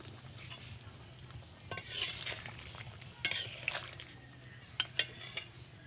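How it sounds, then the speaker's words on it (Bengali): Potato and pointed gourd sautéed with chili paste in a pan give a soft, steady sizzle, broken by a few sharp scrapes and clinks of a spatula stirring against the metal. "আলু আর পটলটা ভালো করে কষিয়ে নেবো"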